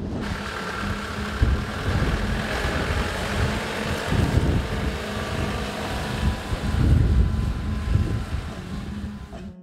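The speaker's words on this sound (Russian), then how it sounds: "Сильный ветер и пылища." Strong, gusting wind across the open Kazakh steppe on a hot, dusty day, buffeting the microphone with loud low rumbles and continuous broadband roar throughout.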